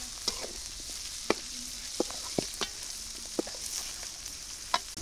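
Onion and green chilli fry with prawns in a pan over a village kitchen fire, a faint steady sizzle broken by scattered small crackles and pops, with no talking.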